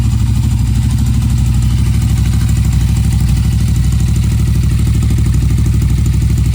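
A Royal Enfield Continental GT 650 motorcycle fitted with an Ngage Iridium spark kit runs in gear at idle nearby, a loud, steady, rapidly pulsing engine throb that continues without a break.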